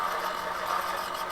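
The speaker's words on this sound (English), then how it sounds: "When I sharpen the drill," A twist drill bit being sharpened on a bench grinder in a home machine shop, giving a steady, continuous grinding whine at moderate loudness with no breaks and no talking.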